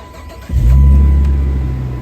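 A 1999 Plymouth Prowler engine cranks and catches at close range, settling straight into a loud, steady low idle rumble.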